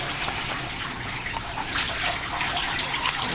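Water pours to rinse a person's back during an assisted bath. It sounds as a dense, steady splashing rush, close and continuous, with no talking.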